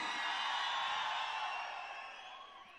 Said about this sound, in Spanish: Están gritando más fuerte los hombres que las mujeres.